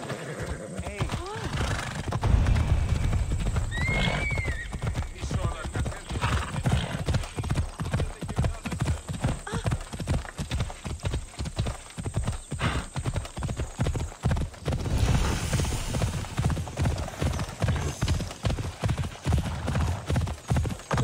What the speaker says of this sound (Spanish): Mira el caballito, la silla roja y el caballo blanco